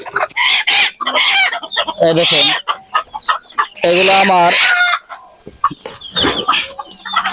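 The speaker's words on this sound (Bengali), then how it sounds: "এগুলো হলো আমার মুরগি ছোট থেকে বড় করছি" Chickens on a poultry farm where quail and hens are raised cluck and squawk steadily up close, with a rooster-like crow rising partway through, while someone talks over much of it.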